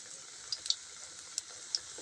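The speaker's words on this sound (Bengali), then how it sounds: "এই তেলের মধ্যে ভাজা হচ্ছে" Food frying in oil gives a faint, steady sizzle, broken by a few small pops and ticks spread across the moment.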